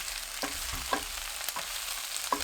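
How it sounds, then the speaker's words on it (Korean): Minced garlic stir-frying with browned leeks in a pan, a soft steady sizzle punctuated by a few rhythmic scraping stirs. "다진 마늘 1큰술 넣고 10초 볶아주세요"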